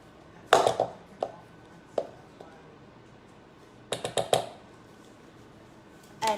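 Chocolate chips tipped into keto cookie dough in a bowl, several quick clicking and rattling bursts in small clusters, close and fairly quiet against a low room background.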